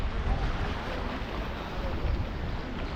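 Sea waves at a beach in Punnakayal, a steady broadband wash of surf with wind buffeting the microphone, continuous and fairly loud, no talking.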